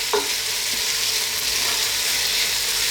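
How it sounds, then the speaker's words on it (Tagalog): Small chicken pieces for a tomato pasta sauté in a pan with a steady close sizzle, and a brief stirring clink sounds near the start. "So ngayon, isusutin natin siya, lulutuin lang natin siya ng mga 3 minutes."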